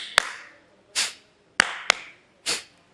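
Sharp hand claps ring out in a quiet room, five crisp strikes spaced unevenly across a few seconds, close and clear with short decays and no talking.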